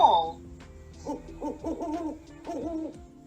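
An educational word card reader toy plays a recorded owl hoot: a series of short, tonal hooting calls in quick succession, heard close and clear with little else around them.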